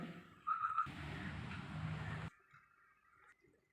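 Water is poured into a daisy plant's pot in one close splashing gush lasting under two seconds, then fades to quiet with faint trickling.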